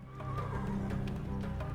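A horse in the stables of the Secret Files 3 video game gives a clear, brief whinny, a wavering neigh over a low background hum, close and moderately loud.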